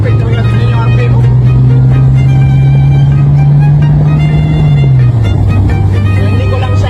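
A pit bike engine with a new carburetor revs loud and close in a sustained droning tone that climbs slightly, then drops near the end, over a rough, buzzing exhaust.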